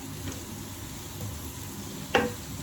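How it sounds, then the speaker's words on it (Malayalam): Mutton curry with potato and tomato is stirred in a pan, giving a soft continuous sizzle and scraping close by. A single sharp utensil clank sounds near the end. "ഇത് നന്നായിട്ട് ഇളക്കി കൊടുക്കുക കേട്ടോ"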